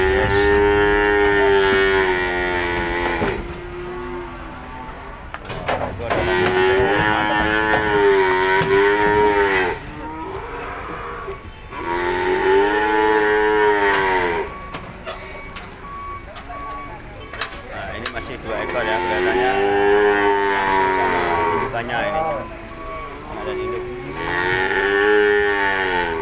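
Cattle at the Ambarketawang cattle market in Jogjakarta moo in repeated long, loud calls, one after another with short gaps between, while people talk in the background.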